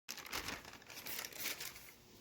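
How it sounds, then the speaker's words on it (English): Soft crinkling and rustling of parchment paper being peeled away from pie dough, close and fairly quiet, continuous for about two seconds. "just lift the parchment paper and then flip it to your pie plate, and then peel the parchment"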